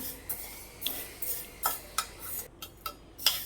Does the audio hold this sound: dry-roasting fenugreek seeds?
yes